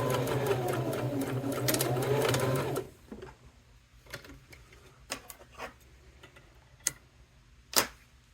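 A sewing machine stitches straight down the middle of a cork wallet pocket in a steady, loud whir for a few seconds, then stops, leaving faint clicks and handling taps of the fabric and machine.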